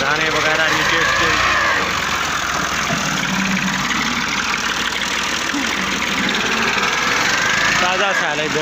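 Tractor engine running steadily during silage making on a farm, a loud continuous mid-pitched rumble with rough knocking texture, close by and unbroken throughout, with a brief dip near the end.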